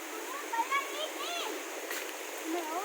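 A small waterfall, Nan Chon in Nakhon Si Thammarat, Thailand, hisses steadily in the background while a person talks close by.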